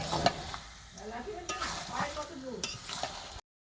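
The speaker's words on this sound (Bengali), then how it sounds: "এটাকে ভালো করে কষে নেব।" Chicken kosha, stir-fried until red and dry, sizzles up close as a spatula scrapes and turns the meat in a pan, and it cuts off abruptly at the end.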